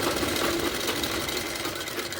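A sewing machine stitches blouse fabric in a steady, rapid whirring run, loud and close, with no voices over it.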